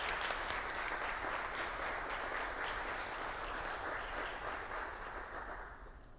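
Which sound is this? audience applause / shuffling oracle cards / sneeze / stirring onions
audience applause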